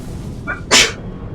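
A single sharp sneeze bursts out close by, brief and loud against a quiet background.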